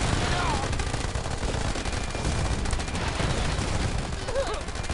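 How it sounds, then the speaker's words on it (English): Gunfire in a firefight in the video game This Means War!, with Humvees and infantry grunts: rapid, continuous bursts of machine-gun and rifle fire, dense and sustained, with faint background chatter. "Little bit of a firefight here."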